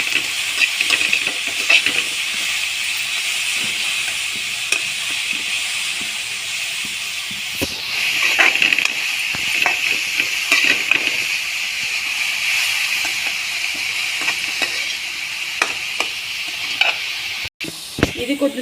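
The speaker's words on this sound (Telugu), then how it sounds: "బాగా ఫ్రై అయిన తర్వాత, ఎక్కువ ఫ్రై చేయమాకండి." Momo filling seasoned with garam masala fries in a pan with a steady, moderately loud hiss and sizzle, broken by occasional stirring scrapes and clicks, with no talk.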